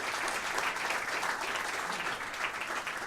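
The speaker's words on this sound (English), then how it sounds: "Yes, round of applause." Audience at the Arizona governor's International Jazz Day proclamation signing applauding an arts academy director, an even, sustained patter of many hands clapping throughout.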